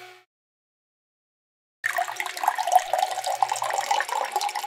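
After a short silence, water pours steadily into a vessel as a drink is made, a close splashing stream lasting a few seconds with no talking.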